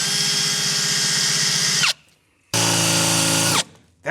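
A power drill bores through wooden rafters in two loud bursts close by, each whining at full speed for one to two seconds and then spinning down, separated by a short pause with no talking.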